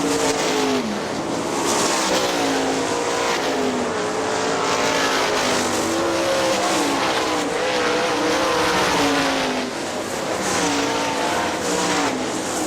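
410 sprint cars race around the Hartford Speedway Park track, their engines roaring loudly and continuously with rising and falling pitch as the cars pass and accelerate.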